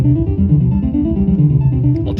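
Three analog synthesizer VCO sequencers play together, layering a dense, buzzing, pitched loop with shifting low notes. The sound is loud, close and continuous.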